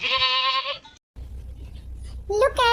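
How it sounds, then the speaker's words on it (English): A sheep bleats loudly and close by in two wavering calls separated by a brief silence, with a low rumble in between. "It is a sheep."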